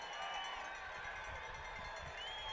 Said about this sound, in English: from the roars of the crowd in field 10, it sounds like the Iroquois Nation is making a comeback right now